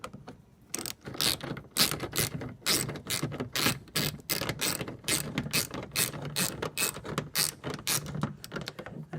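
A hand ratchet turns bolts on a Chevrolet Cruze trunk during a trunk release switch repair, sharp rapid clicking bursts repeating up close, loud and alone.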